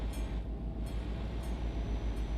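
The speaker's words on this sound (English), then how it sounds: "there's a train coming and everything" A short train in Euro Truck Simulator 2 rolls past with a rhythmic low clickety-clack of wheels over rail joints under a steady rumbling hiss, moderately close and fairly quiet, with no voices.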